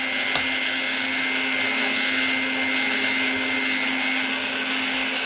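Vintage G.E.C. vacuum cleaner running with weak suction, a steady close-up motor whine with a constant hum and airy hiss throughout, alone with no talking.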